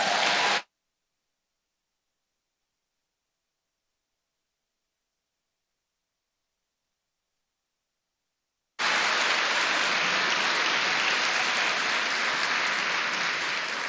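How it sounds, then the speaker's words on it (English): A burst of steady applause from a crowd at a literary awards ceremony, then a long silence, then the clapping returns and continues until the end. "let's applaud their work, please."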